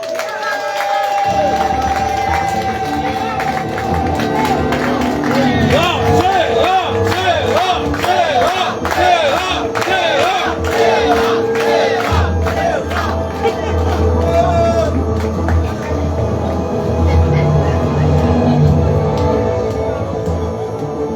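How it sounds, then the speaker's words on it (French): A conference crowd cheers, whoops and claps to welcome a speaker, loud and sustained with shouting voices layered over clapping and a low hum beneath, swelling throughout. "je vous demande d'accueillir chaleureusement, sous un tonnerre d'applaudissements"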